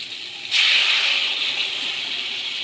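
Water hits a hot pan of vegetables with a sudden loud hiss, then the steam keeps sizzling steadily and eases off only a little.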